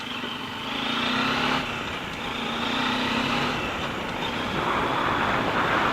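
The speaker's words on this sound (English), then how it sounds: "I really like that bassy exhaust note also." Bajaj Dominar 400 motorcycle (2018 model) riding with a steady, bassy exhaust drone and rising engine note, continuous and fairly loud over road and wind noise, no talking.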